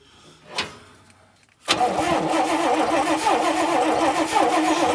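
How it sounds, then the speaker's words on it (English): An old Fargo truck engine cranks over on its starter with a steady, loud rhythmic churning that runs on after a brief clunk and a short gap of near silence. "stand back and watch this thing crank its little heart out"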